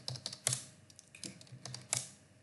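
Computer keyboard typing at a command prompt, a short burst of separate sharp key clicks with uneven pauses, close and clear with no talking.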